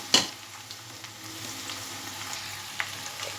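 Okra and potatoes fry in a pan with a soft, steady sizzle, opening with a sharp clink of a utensil followed by light stirring scrapes, close and fairly quiet with no talking.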